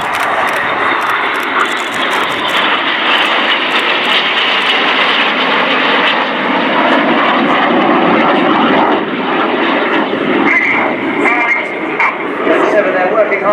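RAF Red Arrows synchro pair jets flying past upside down in close formation at the RIAT 2015 air show, a loud sustained engine roar swelling and shifting in pitch under continuous commentary over a public address.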